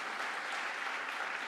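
Audience applause, a dense, even patter of many hands clapping at moderate distance, steady and quiet for a brief moment with no voices over it.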